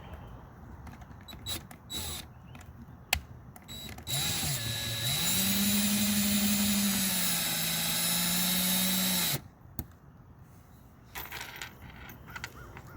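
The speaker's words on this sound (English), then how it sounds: "I will go around and put all these screws in" A power drill drives screws into a van's MaxxAir Deluxe roof fan. One sustained whine rises in pitch and holds for several seconds, with clicks and handling noises before and after it.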